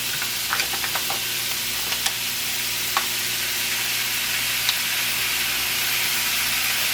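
Barbecue sauce poured into a pot of sizzling shrimp and vegetables, a loud continuous sizzle and hiss with a few small pops and stirring clicks, close and without talk.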